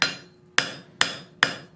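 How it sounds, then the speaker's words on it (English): A hammer strikes hot steel during forging in four sharp, ringing blows at an even, quick rhythm, each impact decaying briefly before the next. "we're going to keep hammering this down"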